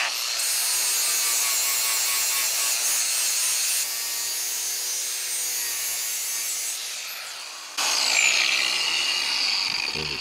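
A grinder takes metal off a bench vise with a loud, close, continuous harsh rasp that shifts in pitch as the tool bears down. The tone changes abruptly near the end.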